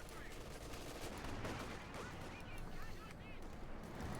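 MG42 machine gun in Company of Heroes 2 rattles amid a busy battlefield mix, its bursts blended with other gunfire and low rumbles while a commentator talks over it.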